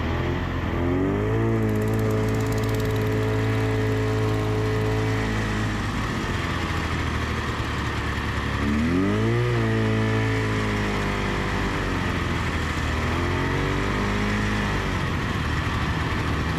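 A vintage John Deere pusher-style snowmobile engine runs steadily at a vintage snowmobile ride in Naubinway, with rising and falling revs around the middle and a constant close, loud drone throughout.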